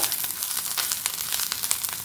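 Steady dry sizzling and crackling from a hot pan roasting grated coconut, close by, with faint scraping as it is stirred.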